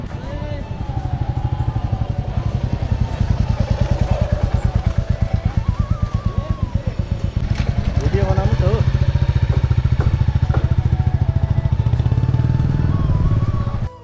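A motorcycle engine runs steadily throughout, with a loud, close, rapid chugging beat that holds its pace with slight surges, while people talk over it.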